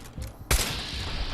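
A turret in Fallout 4 fires a single sharp, loud gunshot that cuts in abruptly and leaves a long noisy tail, heard alone over faint game ambience.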